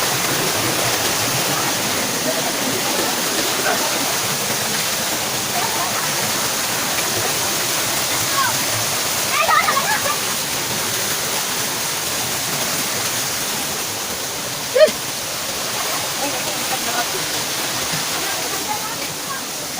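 Waterfall at Bucaue Falls in Campo Cuatro, Talisay City, Cebu, roaring as a steady broadband wash of falling water throughout, with a couple of brief louder splashes and people talking faintly underneath.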